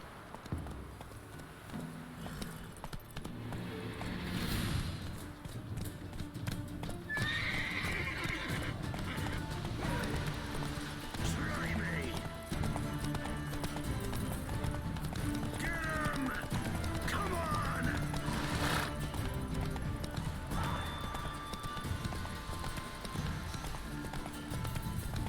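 Roach the horse in The Witcher 3 gallops with steady clip-clop hoofbeats and gives several loud neighs and whinnies, close and continuous throughout.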